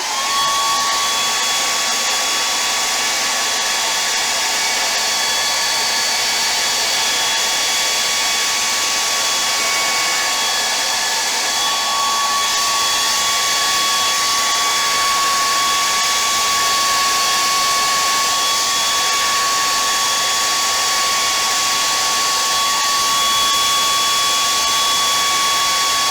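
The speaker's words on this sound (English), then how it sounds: "Okay, here we go with the blow dryer again." A handheld blow dryer runs steadily at close range for the whole stretch, drying paint on a canvas, with a constant high whine and airy rush and no talking.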